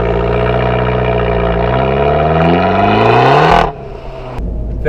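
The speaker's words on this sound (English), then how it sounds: "when you accelerate hard enough, the valves stay open, and man, does that sound good, because then you get like the raspy noise of the Akrapovic exhaust" An Abarth 695 Esseesse with an Akrapovic exhaust accelerates hard, its raspy engine note climbing steadily in pitch before an abrupt shift cuts the sound and the engine picks up again, loud and close.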